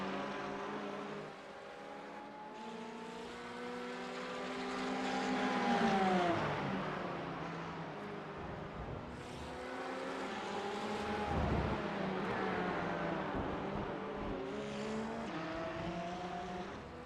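GT4 and TCR race cars in a racing video game at Road Atlanta, engines roaring and shifting pitch as they accelerate and brake, with a continuous droning mix of several cars, moderately loud with no talk.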